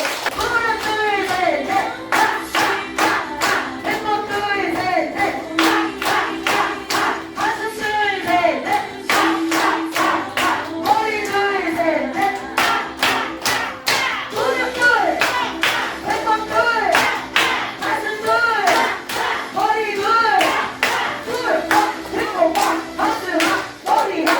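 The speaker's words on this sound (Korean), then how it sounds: "자 그런 의미로 우리 선생님들께 박수!" A crowd of adults claps hands in applause at a laughter-recreation exercise class, steady dense clapping sustained for the whole stretch, loud and close, with faint voices mixed underneath.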